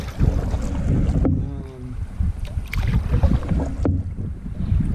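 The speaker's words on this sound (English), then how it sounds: "It's kind of turned into a headwind now" Headwind gusting across the microphone while paddling on the Allegheny River, with rumbling buffets and water splashes, close and uneven, and no talk.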